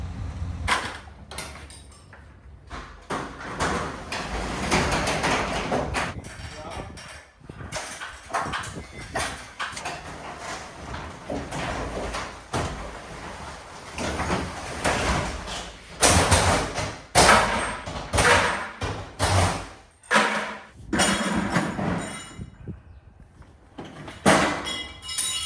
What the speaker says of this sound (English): Limping Garage is here to remove our old garage doors.